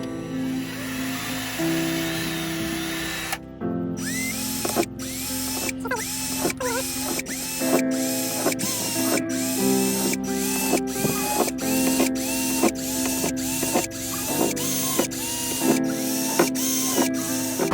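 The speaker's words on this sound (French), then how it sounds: "Allez, on va percer." A power drill bores a hole through the body panel of a VW T6.1 van. It is close and steady, with a whining motor tone and frequent sharp catches and clicks as the bit bites, and it runs for most of the stretch after a brief lower-toned start.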